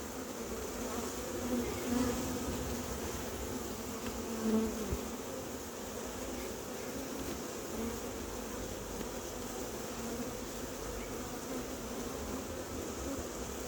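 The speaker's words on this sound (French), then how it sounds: "les abeilles sortent par un trou minuscule" Honeybees buzz steadily as they crawl out of a hive through a tiny hole during a colony's wintering preparation, a dense, continuous drone heard alone.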